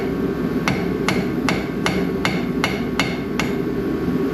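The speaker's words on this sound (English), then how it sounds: "Pop it with the cold chisel here." Hammer striking a cold chisel to pop out a truck axle at the hub, eight sharp metallic blows in an even rhythm about every half second, loud and close over a steady background hum.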